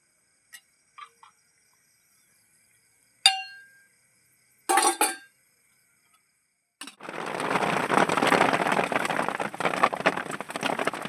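Heavy rain in a village bursts in after near silence broken by a few faint clinks and croaks, then keeps up as a loud, dense roar until the end.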